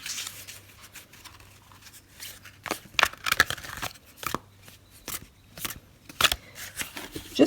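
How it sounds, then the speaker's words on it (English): A thick cardstock tarot deck is overhand shuffled by hand, producing soft papery slaps and riffling bursts in uneven clusters, close and fairly quiet with small pauses between passes. "overhand shuffle"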